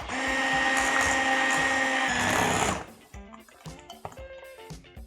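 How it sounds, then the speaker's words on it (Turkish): An electric hand mixer whisks chocolate cake batter in a bowl, a loud steady motorized whir for nearly three seconds, then stopping into softer clinks and scraping sounds. "Bir çırpacağım tekrar."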